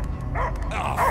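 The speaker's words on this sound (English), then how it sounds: "I hear only barking." A dog barks in the Guardians of the Galaxy video game, giving a quick string of yips and barks over a low rumbling game backdrop, loud and close.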